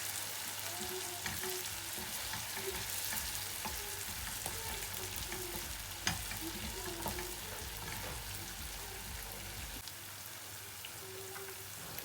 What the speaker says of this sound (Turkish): Ocağımın altını kıstım iyice kızartacağım salçamı da.